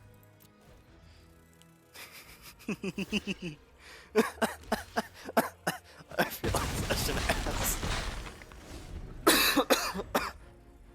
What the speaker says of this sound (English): Oh, I gotta cough up a lung